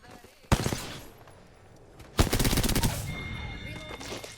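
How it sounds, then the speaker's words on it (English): Bots in a video game shoot at the player: a single loud crack, then a long rapid burst of automatic fire that fades into a rumbling game background. "Bots are shooting at me."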